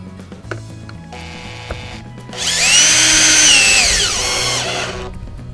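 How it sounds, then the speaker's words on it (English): Power drill driving screws through roof shingles into a wooden pollinator house, a loud sustained whirring burst of a few seconds that rises and falls in pitch, preceded by light tapping and handling noises. "Then you can start screwing down your roof shingles."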